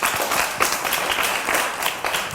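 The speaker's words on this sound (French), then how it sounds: "On acclame très fort." A class of children claps loudly together for about two seconds, a dense, steady burst of applause filling the room.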